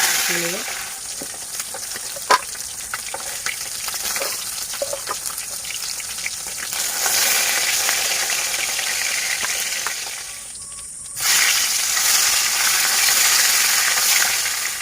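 Fish fries in oil over high heat in a village clay kitchen, a loud continuous sizzle with stirring and scraping, briefly dropping quiet before the frying surges back up.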